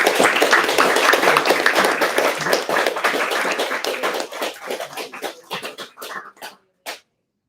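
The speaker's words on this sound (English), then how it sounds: "Maybe let's give you a round of applause." Audience applause at a literary conversation event, many hands clapping loud and dense at first, then thinning into scattered claps that fade out to silence.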